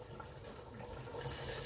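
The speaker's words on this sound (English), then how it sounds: "So maybe I need to put just a little bit of water, just small." A little water pours into a cooking pot of plantain and catfish pepper soup, a steady soft splashing trickle heard close and alone for under two seconds.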